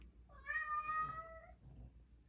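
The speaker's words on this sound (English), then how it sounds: "That's my cat." A house cat gives a single clear meow, rising and then falling, close by against a quiet room.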